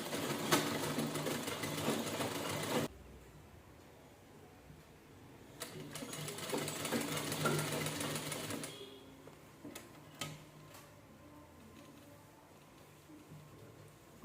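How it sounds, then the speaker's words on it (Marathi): A sewing machine stitches a princess-cut blouse in two bursts of rapid mechanical whirring, followed by quieter handling noises and a few faint clicks. "ह्याच्यावर शिलाई करून घेऊया"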